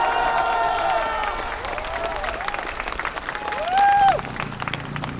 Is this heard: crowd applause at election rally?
yes